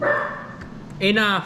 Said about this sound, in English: Sorry, my dog barked.